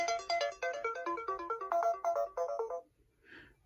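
Futuro cube puzzle gives off a rapid electronic beeping melody at volume level 6, about a dozen bright chirps in quick succession for nearly three seconds, then a brief faint hiss.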